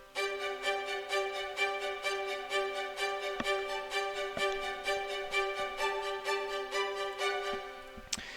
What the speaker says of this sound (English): this string arp, the staccato strings, which sounds like this.